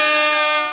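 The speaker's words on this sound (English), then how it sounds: "Claps or air horns for her." An air horn sound effect blares in one short, loud, sustained honk with a rich harmonic buzz, fading slightly at the end.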